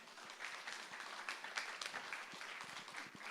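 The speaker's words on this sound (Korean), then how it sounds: "다시 한번 우리 이호준 목사님께 큰 박수로 감사의 인사했으면 좋을 것 같습니다" An audience applauding a pastor after his lecture at a church teachers' seminar; steady, moderately quiet clapping from a crowd that lasts the whole few seconds, with no talking over it.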